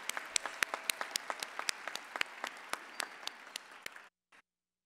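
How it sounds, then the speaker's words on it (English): An audience at a Madison and Dane County King Holiday observance claps for a community choir, giving a few seconds of steady indoor applause with scattered sharp claps that stops abruptly, leaving a brief faint patter. "let's give them another round of applause"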